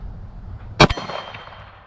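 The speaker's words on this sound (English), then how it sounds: "Let's go ahead and try that MGM gong." A bullet from a Glock 22 Gen 4 police trade-in pistol strikes an MGM steel gong: one sharp metallic clang followed by a short ringing decay, with a faint second knock just after, heard at moderate distance over quiet outdoor background.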